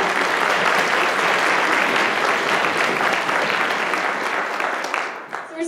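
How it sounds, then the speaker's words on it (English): Loud, full audience applause after a community orchestra's winter concert piece, a dense, sustained roar of clapping that begins to thin and trail off near the end. "Another round of applause for that."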